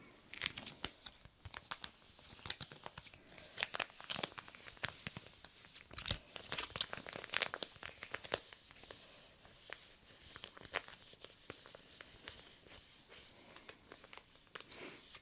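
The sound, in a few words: crinkling sound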